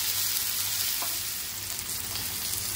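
Rava-coated Bombay duck fish fry in hot oil in a pan, giving a continuous bright crackling sizzle at close range, steady and fairly loud with no voices.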